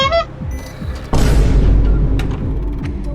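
A loud gunshot-like boom from a live round in a game battle hits suddenly and rings out with a sustained rumbling tail, following quieter mechanical clicking.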